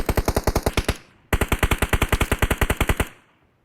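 Rapid automatic gunfire in the mobile battle royale game PUBG Mobile, two loud close bursts of evenly spaced shots split by a short pause, with no talking over them.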